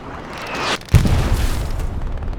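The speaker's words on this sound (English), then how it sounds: "Artillery is zeroed in on that, and there is other infantry looking at it." A heavy artillery blast lands on Utah Beach in a WWII multiplayer match: a short rising roar cuts out, then one loud low boom hits and rolls into a sustained rumbling wash.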